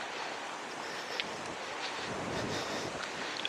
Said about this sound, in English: And the wind's going to pick up now